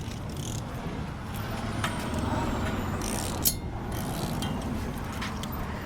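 A prop nut being spun onto the propeller shaft of a Mercury 300 V8 outboard, with steady close ratcheting mechanical clicks and a brief metallic knock partway through.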